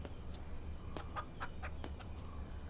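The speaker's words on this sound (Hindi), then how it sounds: "नहीं सर, ये तो मुर्गा है।" A rooster clucks in a series of short, moderately close clucks over a steady low background hum, with no talking.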